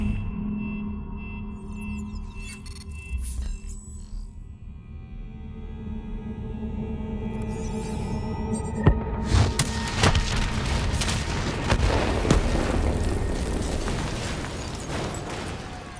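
Explosion after a detonation in the Call of Duty Black Ops 3 video game, a low rumbling buildup of mechanical tones that breaks into a loud, sustained crackling blast lasting several seconds, with no voices.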